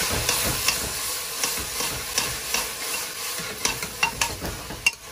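Tomatoes stirred into a sizzling pan of onion and green peas for veg pulao, with a steady loud frying hiss and repeated close clicks and scrapes of a spoon against the pan.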